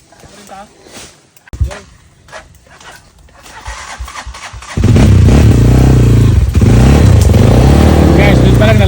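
A motorcycle engine on a rocky trail starts up and revs loudly and steadily near the microphone, following scattered clatter and people talking.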